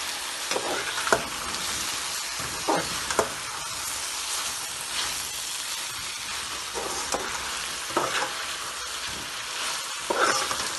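Chopped bottle gourd sizzles steadily in a hot oiled pan while cooking a sabzi, a continuous frying hiss broken by occasional scraping stirs of a spoon against the pan.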